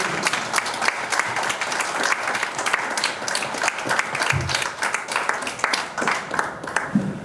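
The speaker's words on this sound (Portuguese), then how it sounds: "Por favor, uma salva de palmas para eles." Audience applause at a magazine launch event, a lively sustained round of many hands clapping with scattered crowd sounds, steady and fairly loud, with no talking over it.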